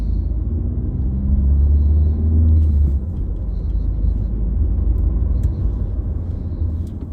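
A 2016-era Volkswagen Polo Business with a 1.6-litre 95 hp engine accelerates on the road, a steady low interior rumble swelling over the first few seconds and then settling at cruising level.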